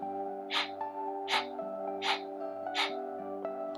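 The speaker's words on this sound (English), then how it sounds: "So for a Kapalbhati breath, you're going to forcefully exhale and passively inhale." Four sharp, forceful Kapalbhati exhales puff through the nose at an even rhythm, each followed by a quiet passive inhale, soft and close over a faint steady hum.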